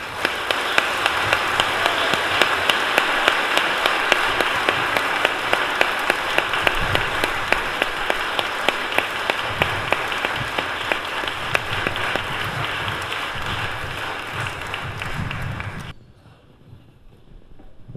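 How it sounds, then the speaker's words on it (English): Wedding guests applaud the newlyweds at a church ceremony, with loud, steady clapping that fills the room for about sixteen seconds before stopping abruptly. "Please give them a round of applause."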